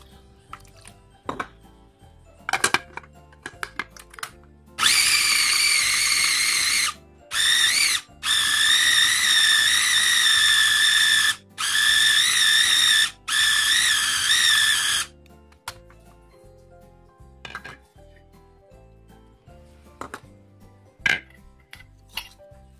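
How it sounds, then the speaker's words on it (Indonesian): Blender grinding fish with water, loud whirring bursts running in several stretches with short stops between, surrounded by quieter kitchen clatter. "Kita haluskan ikan bersama air."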